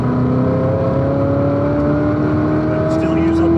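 A 2019 Corvette ZR1 on a race track, its engine loud and close, droning steadily with pitch rising smoothly as it accelerates; a voice talks over part of it.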